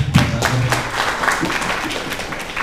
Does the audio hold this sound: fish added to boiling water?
no